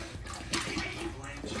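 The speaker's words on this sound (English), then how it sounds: "Can you drink like a normal dog?" A dog laps water in quick wet bursts, close and moderately loud, a splashy slurping run over about a second and a half.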